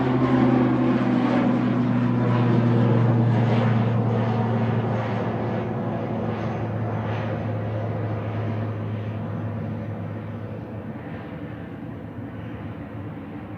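Aer Lingus Regional turboprop airliner departing for Dublin, a steady loud engine drone with a strong low hum that gradually eases as it moves away, no voices.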